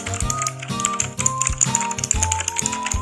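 Someone types on a Vortex VX5 60% mechanical keyboard. Close, rapid clacky keystrokes come in uneven bursts with a rattly, typewriter-like character, and no voices are heard.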